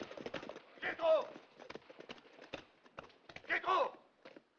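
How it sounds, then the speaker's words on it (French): Horses' hooves clatter in quick, uneven beats while people shout over them, set amid western gunfight action. "Les chevaux, rattrapez les chevaux."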